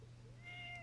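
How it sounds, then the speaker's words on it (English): A pet cat named Gypsy gives a single rising, drawn-out meow, clear and close against a steady low hum. "Oh, that's my cat."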